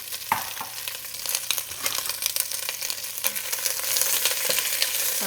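Two Vidalia onions fry in olive oil with a steady close crackling sizzle, punctuated by occasional stirring scrapes, with no voices.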